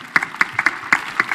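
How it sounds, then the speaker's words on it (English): A few people at a youth convention panel clap after a testimony, sparse, sharp individual claps in a loose, uneven rhythm, close and fairly loud, with a faint room murmur underneath. "Please, a big round of applause to her."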